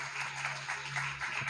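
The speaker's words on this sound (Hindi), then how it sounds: "जोरदार तालियां इस प्यारे से ड्रामा के लिए" An audience claps after a children's drama about Hannah giving Samuel to God: a brief, even wash of clapping from many hands over a low steady hum.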